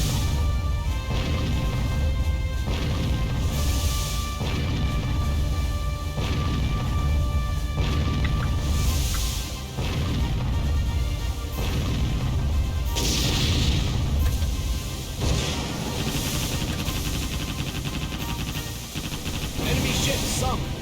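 Booming naval gunfire from enemy warships in the Warship Gunner 2 video game, repeated heavy blasts and crashes over a dense, continuous battle mix with game music, with some talk at times.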